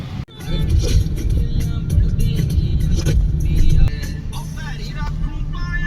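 A car engine idles and rumbles steadily at a roadside tea stop in the sun, loud and close, with a brief louder rev before it settles lower.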